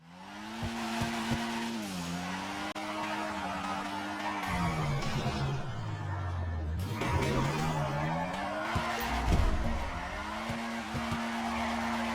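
A car drifting in GTA 5, its engine droning and rising and falling in pitch as the tires skid and squeal almost continuously, loud and close throughout.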